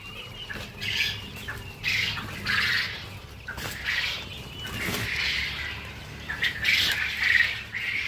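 A flock of caged quail, mostly laying hens, squawks and chirps in repeated bursts at close range, with brief wing flutters between calls and no talk.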